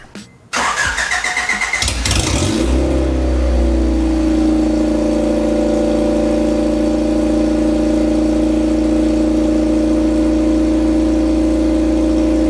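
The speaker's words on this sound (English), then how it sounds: "I'll give you an exhaust startup from right here of what it sounds like without anything but open header." A lifted Honda Civic wagon running an open header with no muffling cranks and fires, then settles into a loud, raw, steady idle with a deep drone that fills the rest of the clip.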